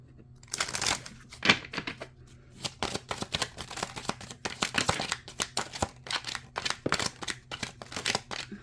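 Tarot cards shuffled by hand in a continuous run of crisp riffling and flicking bursts, close up and fairly loud, with no talking.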